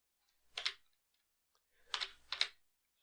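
A computer mouse clicks softly, one click followed after a pause by two quick clicks, close and faint in a quiet room.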